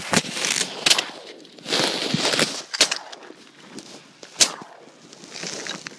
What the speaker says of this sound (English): Shoot them when you want to. Shoot them well.